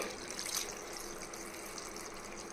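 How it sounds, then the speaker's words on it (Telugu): Water is poured from a large glass into a clay cooking pot of tamarind curry, a steady, close rushing pour that runs unbroken with no voices. "ఒక పెద్ద గ్లాసు నీళ్ళు పోయాలి"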